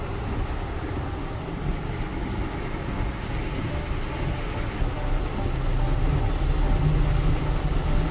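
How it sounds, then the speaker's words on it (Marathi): Heavy rain drums steadily on a car driving on the Old Pune–Bombay highway in Pune, a dense continuous hiss over low road and engine rumble that swells toward the end. "पाऊस लय जोरात चालू।"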